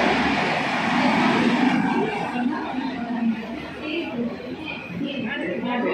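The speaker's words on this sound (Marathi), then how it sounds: "ही लोकल 10:47 मिनिटांची बदलापूरला जाणारी जनरल लोकल" A Mumbai local train, a general service bound for Badlapur, at a railway platform in rainy weather gives a loud, steady broadband rumble for the full six seconds, with indistinct voices mixed in.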